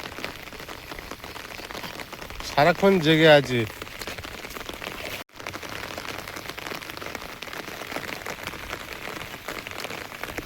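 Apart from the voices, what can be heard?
heavy rain pouring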